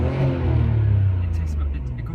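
A Nissan R32 GTR with a repaired vacuum leak revs up then settles, a deep close engine drone rising and falling with a faint whine.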